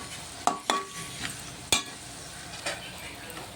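Soft sizzle of spices in hot oil, broken by a few sharp metallic clinks of a spoon against the pan.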